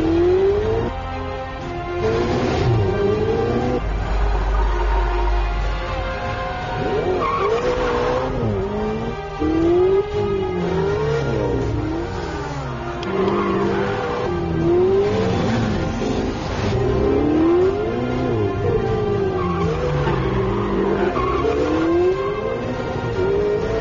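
A Ferrari 488 GTB with the XXX Performance tune revs hard, its engine note sweeping up and down through gear changes with tire squeal and skidding, loud and close throughout.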